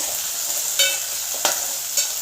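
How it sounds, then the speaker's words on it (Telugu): Curry leaves frying in hot oil, a bright continuous hiss and crackle with three distinct stirring taps against the pan, close and clear with no talk. "కరివేపాకు ఇది కూడా ఆయిల్లో ఫ్రై అయితేనే బాగుంటుంది"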